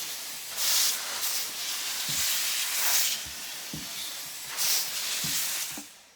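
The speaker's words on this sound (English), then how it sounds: "I do use steam when pressing to get things really flat" A steam iron pressing a starched garment hisses in several bursts, with soft thumps of the iron between them.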